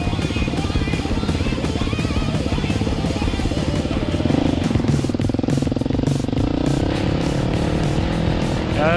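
A Husky motorcycle engine climbs a hill, revving loud and close with a rough buzzing note that swells around the middle and holds steady, plus a little clatter. No voices.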